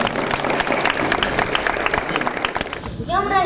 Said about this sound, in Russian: Под громкие аплодисменты давайте приободрим